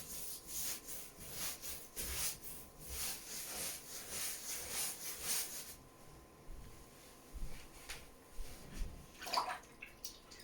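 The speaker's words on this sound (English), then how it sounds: "Rinse my brush." A paintbrush swishes and sloshes in a water cup as it is rinsed during acrylic painting, soft rhythmic splashing for several seconds, then quieter with a couple of light taps and drips.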